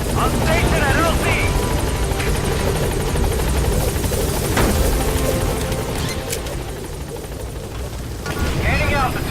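Rotor thump and engine roar of the Pequod helicopter arriving at a landing zone in Metal Gear Solid V, a loud, steady drone filling the scene with radio voices over it.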